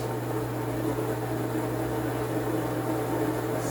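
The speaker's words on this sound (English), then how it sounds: "Excuse the noise, that's the washer." A washing machine runs in a home while clothes are being washed, giving a steady low hum and broad whooshing noise with no change throughout and no talking.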